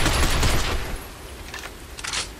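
Rapid automatic gunfire from the shooter game Binary Domain, a dense burst up front, then thinner scattered shots and a second short burst near the end, loud and close.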